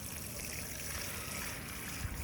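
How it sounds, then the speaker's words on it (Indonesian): Water from watering potted plants in recycled gallon containers in a rooftop garden makes a steady splashing trickle, fairly faint and continuous. "di sore hari sama pagi hari ini kerjaan yang normal, itu disiram ya"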